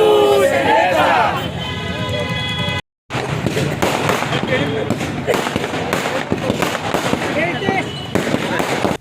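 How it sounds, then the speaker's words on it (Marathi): Firecrackers pop and crackle in rapid, irregular bursts, loud and close, over a cheering crowd at a Shiv Sena (Shinde faction) celebration, with a short break of silence early on. "फटाक्यांची आतिषबाजी करीत जल्लोष केला"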